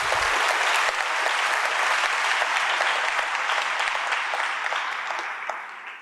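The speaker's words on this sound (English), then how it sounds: "I think we can give them a nice round of applause." An audience at a conversation event with former South African President Thabo Mbeki applauds a panel, a dense and even round of clapping that holds steady and tapers slightly at the close.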